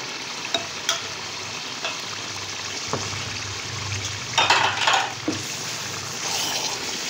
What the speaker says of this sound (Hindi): ये सब्ज़ मिर्च डालने लगी हूँ, एक कुटी हुई, और 1 बड़े 4 चम्मच है ये दही के डालूंगी।